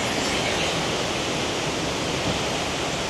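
Vega Falls in Prosperidad, Agusan del Sur, still flowing strongly in the dry season, gives a steady, loud, broadband roar of falling water that stays unchanged throughout, with no voices.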